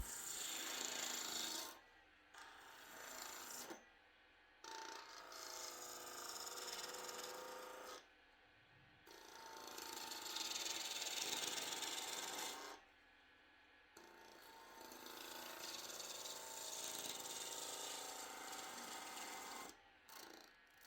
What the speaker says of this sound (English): I'm trying to see what the limits are with a skew chisel.